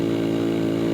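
A Honda Grand Astrea motorcycle labours uphill on a winding road, its engine giving a steady, close, buzzing drone with no pause across the brief moment.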